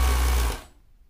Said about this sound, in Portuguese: E vou fechar ela aqui no overlock